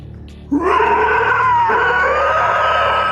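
A voice imitates an otherworldly howl during a Delta Green horror roleplaying one-shot, a loud sustained wailing tone that rises at onset and holds steady for about three seconds, close and alone.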